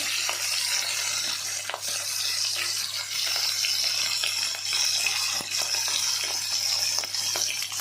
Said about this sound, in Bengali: আমি আস্তে আস্তে করে ভেজে নিই অল্প অল্প করে